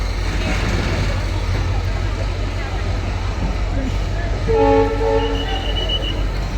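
A train rumbles along a track beside a bus stand in Sagar, loud and steady, with a horn sounding toward the end; faint voices sit under the noise.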